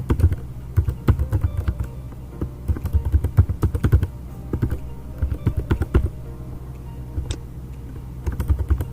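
Quick bursts of key clicks on a computer keyboard as a username is entered, irregular clusters of taps with short pauses, close and fairly quiet, with no talking.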